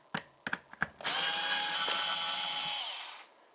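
A power drill runs steadily for a couple of seconds, backing screws out of the plate on a Kyosho Big Brute RC truck, preceded by a few sharp clicks and taps as the bit seats.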